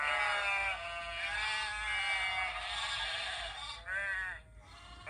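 Startled sheep bleating from a Soundtraxx Tsunami SoundCar decoder in an HO scale Bachmann cattle car: a long, wavering bleat, a pause, then a shorter second bleat, fairly loud and close.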